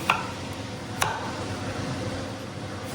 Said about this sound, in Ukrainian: Я нарізаю такими півкільцями